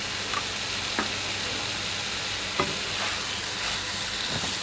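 Grated carrot and chopped green capsicum stirred in a hot pan, a steady sizzle broken by a few sharp scraping clicks of the spoon against the pan, close and alone.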